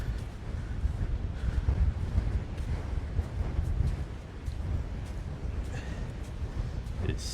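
Strong gusting wind buffets the microphone beside a jetty by open water, a steady low roar rising and falling in waves throughout, loud and close with no other clear sounds.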